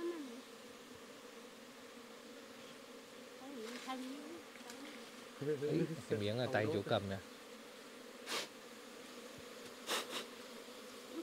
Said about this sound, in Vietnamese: Con ong nó chạy hết ra phần cuối của cái tổ ấy rồi.